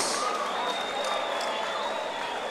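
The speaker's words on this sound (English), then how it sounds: "can we please have a big round of applause for both of our" A dense wash of clapping from a fight-event crowd, steady and fairly loud throughout, with an amplified announcer's voice ringing over it.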